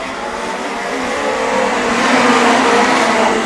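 Legend cars roar off together at the green flag on a partly watered racetrack, a dense, loud wash of engine noise that swells steadily as the pack accelerates, with no voices.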